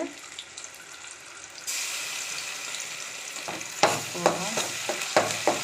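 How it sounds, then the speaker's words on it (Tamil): Onions sautéing in a pan for chana masala, a rising hiss that settles into steady sizzling, then a run of sharp spatula scrapes and knocks stirring them near the end. "வெங்காயம் நல்லா வதக்கிக்கலாம்"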